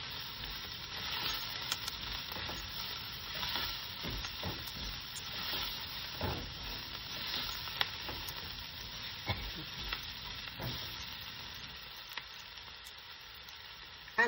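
Chili ingredients sizzling in a pan while being stirred, a continuous close hiss broken by repeated scraping clicks of the spoon, with no talking.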